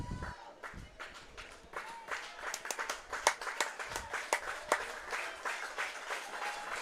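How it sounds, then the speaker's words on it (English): A crowd of baseball fans clapping in a steady patter, rising and falling, heard from a distance with faint background noise. "Royals fans clapping here."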